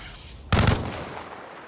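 A single loud, sharp gunshot burst from colonists firing in RimWorld cracks out and then decays quickly into a quiet tail, with no talking.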